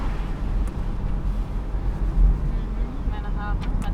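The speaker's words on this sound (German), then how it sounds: "dann haben wir deutlich mehr Wind im Cockpit und auch ein sehr freiluftiges Fahrgefühl" Wind rushes loudly and steadily through the open cockpit of a 2017 Porsche 911 GTS Cabriolet with the wind deflector lowered. The deep buffeting rumble runs throughout, with a brief faint voice near the end.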